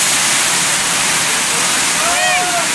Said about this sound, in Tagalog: Nandito na ang bagyo. Sobrang lakas.